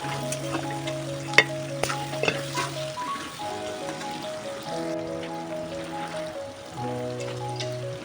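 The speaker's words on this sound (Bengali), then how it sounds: "পেঁয়াজটা ভালো করে ভেজে নেব।" Onion, tomato and salt frying in a pan for a Bengali-style chicken pulao, a steady soft sizzle with occasional stirring scrapes, set against a sustained melodic tune in the background.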